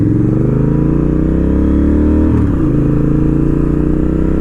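A Honda Rebel 1100 motorcycle pulls away from a dead stop uphill, its engine note rising steadily as it accelerates. A gear change comes partway through, loud and close with constant wind noise.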